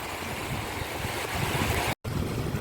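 Wind rushes steadily outdoors by a river, a constant breathy roar with a brief dropout partway through.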